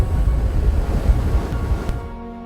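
Steady broadband rush of air from an in-house wind tunnel used for aerodynamic testing of a full-scale helmet model, loud and continuous before easing off near the end.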